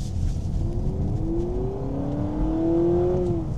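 A 2025 Honda Civic Hybrid accelerating at full throttle, its engine note rising steadily in pitch over a loud rumble of road and cabin noise, heard from inside the car without speech.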